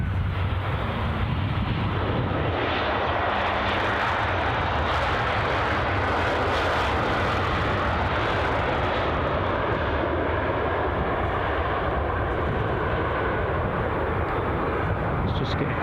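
Lufthansa airliner at Edinburgh Airport producing a steady broad engine roar at moderate distance, with wind buffeting the microphone throughout.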